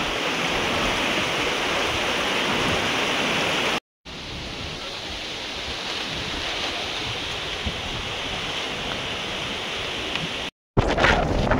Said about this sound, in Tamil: என்ன காற்று நல்லா வேகமாக அடிக்குது